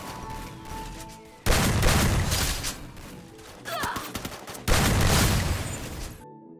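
Bursts of heavy gunfire from a high-damage weapon in the game Free Fire, with loud sustained volleys separated by short pauses, close and dominant, with no speech.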